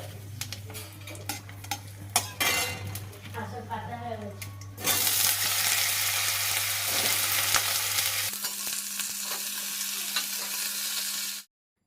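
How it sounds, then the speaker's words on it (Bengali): Potatoes stir-fried in a kadai of oil with cumin and dried chilli: first clinking utensils and scraping over a low hum, then a loud, continuous close sizzle with stirring. "ওদিকে তেলের উপরে জিরে আর শুকনো লঙ্কা ফোড়নে দিয়ে আমি আলুগুলো একটু ভাজা ভাজা করে নিলাম"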